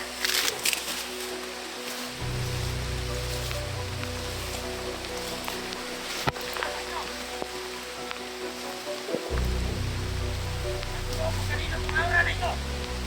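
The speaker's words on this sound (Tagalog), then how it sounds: "Yan, ulan na." Rain falls steadily on a mountain, a soft continuous wash with low rumbling gusts, while people talk over it.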